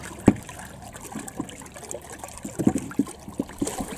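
Water mixed with Dawn dish soap being stirred in a container to prepare for tanning a deer hide, with soft sloshing and trickling swirls and a few louder splashy strokes, close and without talk.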